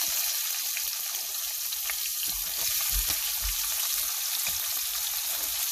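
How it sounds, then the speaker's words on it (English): An onion frying with browned cumin seeds in hot oil for a vegetable sabzi sizzles steadily and close, a broad bright hiss with a few soft stirring knocks and no voices. "as the cumin turns brown, throw in an onion."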